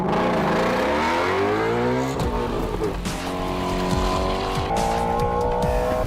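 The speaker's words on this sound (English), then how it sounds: "Ford has their own engine sound video" A Ford car engine revs and shifts through rising and falling pitches, loud and close, with harmonic sweeps climbing and dropping as gears change and a brief tire squeal mid-run.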